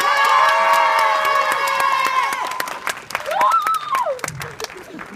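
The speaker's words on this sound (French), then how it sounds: "vous pouvez l'applaudir" Audience applause and cheering in Geneva for actor William Lebghil at a preview of the film Les nouvelles aventures d'Aladin, clapping and shouts mixed with loud sustained music-like tones, and voices emerging toward the end.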